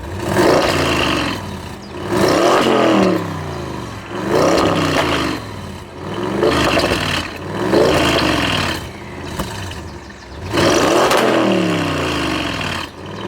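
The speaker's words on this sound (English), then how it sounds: "We're going to give the car a start up and some revs so that you can really like hear this car for what it is." An Audi S8 Plus D4 V8 limousine, tuned to around 700 bhp, revs repeatedly in comfort mode. There are about six loud roaring blips, each rising and falling back toward idle, close up with no talking.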